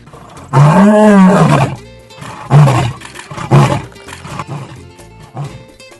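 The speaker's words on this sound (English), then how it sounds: "Lions are famous for their loud roar." A lion gives one long, loud, close roar, followed by several shorter grunting roars that fade to quiet, with no talking.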